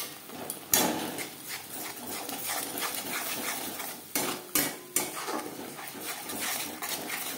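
Ginger and green chili paste stirred in a pan while making pomfret fish kalia, giving steady scraping and clinking of a spoon against metal with a few sharper knocks, close and moderately loud, no talking.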